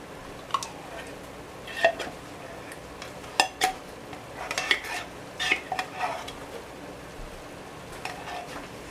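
Canned cream of mushroom soup emptied into a cooking pot of beef stroganoff, with scattered metallic clanks, taps and scraping of utensil against pot in irregular bursts, close by.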